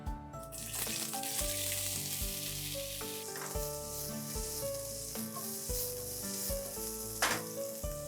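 French beans dropped into hot vegetable oil in a wok sizzle loudly and steadily, with repeated clanks and scrapes of stirring and tossing breaking the constant crackle; nobody speaks.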